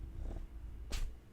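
A pet cat sneezes once, a short sharp puff up close in a quiet indoor room, preceded by faint soft rustling.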